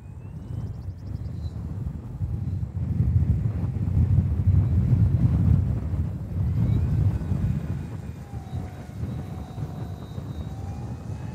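Strong wind buffets the microphone with a low, continuous rumble that swells and eases, while the faint engine of an FMS 1700mm PA-18 Super Cub radio-controlled plane drones in the distance.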